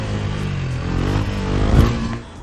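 A motorcycle engine revs up while a rider lifts the front wheel into a wheelie, a mid-pitched droning roar rising and surging for a couple of seconds at close range with no talking.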